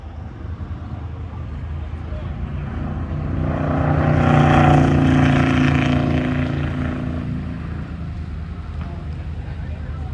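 A race car engine sweeps past on a track, growing from a steady distant drone to a loud, close roar around the middle before easing away, with wind noise over the microphone.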